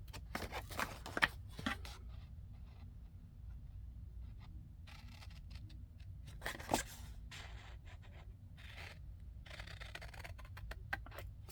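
Scissors cut out paper file folder tab pieces up close, with a series of quiet, irregular snips and rustling paper scrapes between them.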